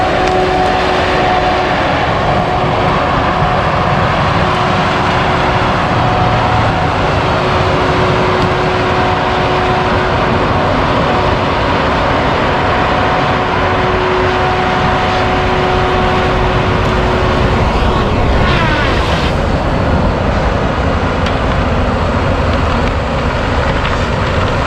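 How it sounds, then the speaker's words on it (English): Loud, constant roar of heavy trucks and cars at a tree mulching site with huge excavators, a dense engine rumble with steady tonal whines running throughout and no talk. "It is really loud, all these trucks and cars and stuff"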